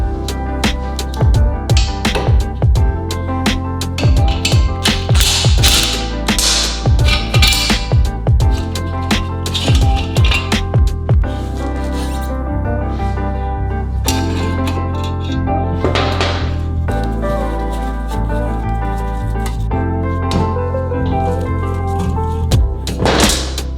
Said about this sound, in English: take off the chain guide and then remove the bushings where the swing arm mounts to the frame